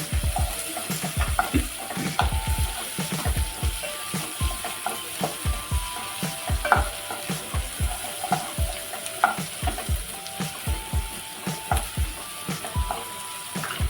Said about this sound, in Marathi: तीन हिरवी मिरची बारीक कट करून घेतलेली आहे आपण मिक्स करून घेऊया